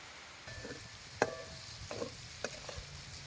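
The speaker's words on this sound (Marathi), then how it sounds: "पावट्या बी तेलात चांगलं खालवर करून घ्यायचं आणि मग तिला चटणी घालायची." Pavta beans frying in oil in a pot over a wood-fired stove, stirred with a ladle. Soft sizzling runs underneath a few distinct scraping and knocking strokes of the spoon against the pot, with no talking.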